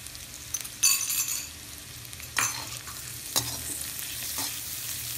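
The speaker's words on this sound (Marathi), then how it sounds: "तोही या कारल्याबरोबर व्यवस्थित परतवून घ्यायचा आहे फास्ट गॅसवरती" Chopped onion and bitter gourd sautéing on high heat in a pan for a Maharashtrian bhaji, a steady soft sizzle broken by several louder scraping stirs of a spatula.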